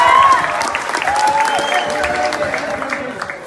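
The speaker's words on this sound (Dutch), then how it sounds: "Applaus voor deze beide heren." A crowd at a fight event applauds the two fighters with loud, continuous clapping and some cheering, holding steady before easing slightly.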